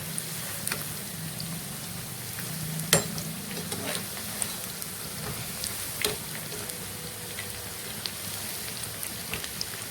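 Paneer 65 pieces frying in hot oil give a steady, fine crackling sizzle with scattered louder pops, close and moderately quiet throughout.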